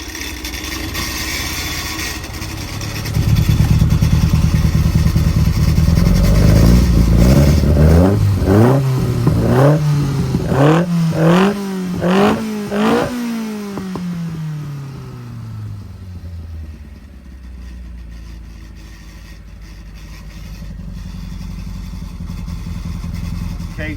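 A small engine fitted with a Weber carburettor starts up and revs hard several times in rising and falling sweeps, then drops back to a lower idle, loud and close in a workshop.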